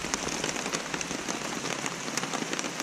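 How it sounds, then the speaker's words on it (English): Steady rain patters on surfaces outdoors along the Big Creek Loop trail in the Great Smoky Mountains, a soft, even hiss with scattered close drops and no talking. "Hopefully the rain will let up in a little while."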